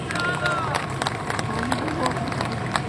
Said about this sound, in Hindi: उन्होंने अपनी बहनों के लिए तालियां बजा दी भरपूर तरीके से।